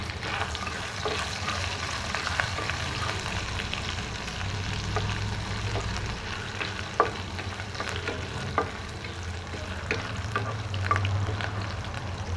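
Paneer frying in a pan with a pinch of asafoetida for methi paneer gives a steady, soft sizzle, with light clicks and scrapes of stirring now and then and no voices.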